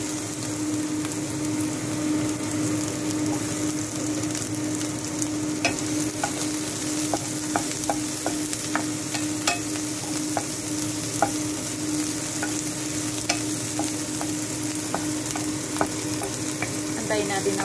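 Garlic fries in a pan for squid adobo, a steady close sizzle throughout with occasional scrapes and light clinks from stirring.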